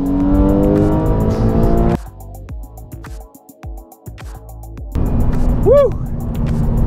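Porsche 911 launching hard in a 0-60 drag run, loud engine revving climbing through the gears with a gap at a shift, a whoop over it, then renewed acceleration roar.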